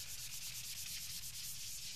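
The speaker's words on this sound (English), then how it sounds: "sanding by hand the surface" A guitar's polyester clear coat is hand sanded with a Mirka Abralon foam pad, giving a soft, quiet, rhythmic swishing of rapid back-and-forth strokes close by, with no talk.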